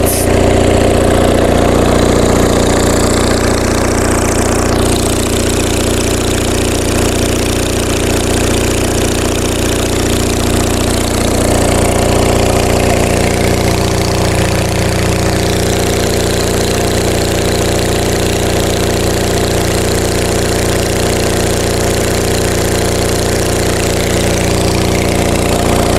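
A rusty Onan MDJE diesel generator idles loudly up close with a crackly, uneven exhaust, its rumbling chug continuing steadily throughout without any voices.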